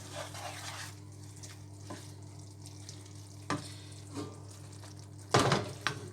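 A white wine sauce for lemon sole simmers gently in a pan while being stirred: a faint, soft bubbling with a few quiet scraping strokes and a louder clatter near the end.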